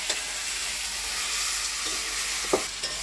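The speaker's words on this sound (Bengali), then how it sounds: "মাংসটা কষাবো মশলার সাথে" Goat meat sizzles steadily in spices in a pot over a wood fire on a clay stove, a constant hissing fry with a few soft scraping stirs.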